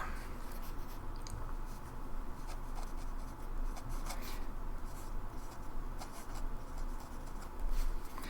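A broad-nibbed Lamy Safari fountain pen, 2021 special edition in green, writing on paper: continuous close scratching strokes with brief pauses, steady and moderately loud, no voices.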